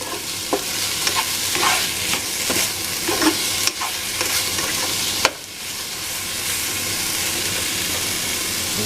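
Vegetables sizzle steadily in a hot pan as they are stirred, with a continuous frying hiss and occasional scrapes and clatters of the utensil against the pan.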